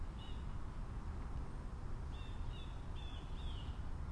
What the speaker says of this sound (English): we get to listen to the sounds of the birds.